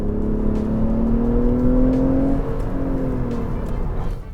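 A front-wheel-drive 302-horsepower Lexus ES 350 F-Sport with traction and stability control switched off accelerates hard uphill, its engine note climbing steadily then easing near the end, loud and close.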